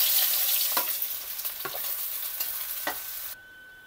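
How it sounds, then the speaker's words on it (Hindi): Onions frying in oil for veg chowmein, a loud bright sizzle with several scraping stirs of a spatula before the sizzle suddenly drops away. Close, with nobody talking. "इसको हमने पिंकिश होने देना है, मतलब ज़्यादा नहीं पकाना है प्याज को"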